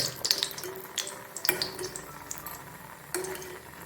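Mexican mint leaf bhajji frying in hot oil, crackling and bubbling with several sharp spattering pops scattered over a soft continuous sizzle, close and moderately loud.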